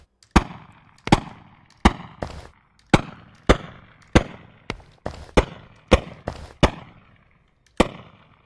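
Rifle shots fired in an Unreal Engine demo with Wwise Reflect early reflections, about a dozen sharp loud cracks at uneven intervals, each followed by a brief reverberant tail, with no talking.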